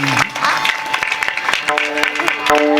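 An audience at a comic kirtan performance claps in a lively burst of many hands, with crisp individual claps over a steady music tone and some voices underneath.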